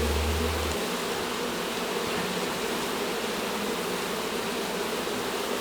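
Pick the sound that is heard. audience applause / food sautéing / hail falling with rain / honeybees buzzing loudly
honeybees buzzing loudly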